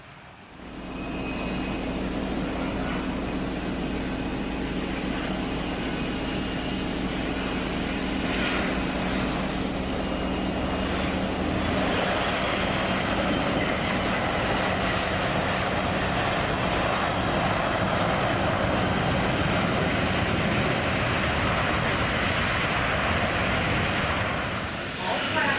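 Boeing 737 MAX airliner with steady, loud engine roar filling the cabin for the whole stretch, a broad continuous rumble and hiss that shifts slightly midway and fades briefly at the end.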